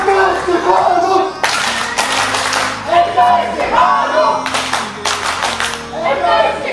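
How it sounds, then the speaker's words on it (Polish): Bursts of clapping for the MKS Ciechanów youth team at a regional tournament award ceremony, several waves of applause from a crowd with an amplified announcer talking between and over them. "Wielkie brawa."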